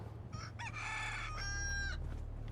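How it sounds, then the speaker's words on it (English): A rooster crows once in Fallout 4, a clear drawn-out cock-a-doodle-doo with a rising start and a long held tone over a steady low game hum, moderately close. "We got a rooster."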